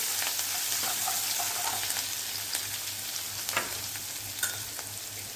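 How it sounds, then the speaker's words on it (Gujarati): Crushed ginger, garlic and chili sauté in a hot pan for a sukhi bhaji tiffin dish, giving a steady close sizzle with scattered clicks and scrapes of stirring, and no talking. "તે ઉમેરી દઈશું અને થોડીક વાર માટે સાતળી લઈશું"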